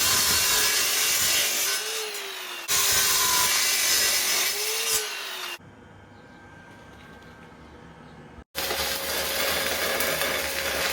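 Metal being cut to size with a power tool for a log burner built from an old propane tank, loud steady grinding and rasping in long runs broken by short pauses and a quieter stretch, with no talk.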